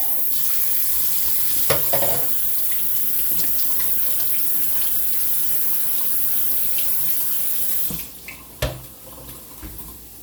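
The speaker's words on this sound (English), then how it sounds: "Go ahead and drain and rinse. I always rinse the can for the recycle bin." Running tap water splashes steadily into a sink as a can is drained and rinsed, a continuous close hiss that cuts off near the end, leaving a few small clinks and drips.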